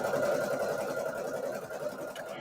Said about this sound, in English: So I'm just going to start embroidering this.